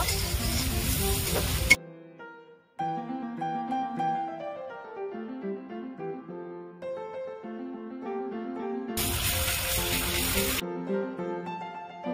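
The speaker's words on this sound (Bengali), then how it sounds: "রসুন বাটা দিয়েছি, ভালো করে ভেজে নেব।" Garlic paste fries in hot fat in a pan for a chicken curry, with loud crackling sizzle bursts at the start and again near the end and music playing in between.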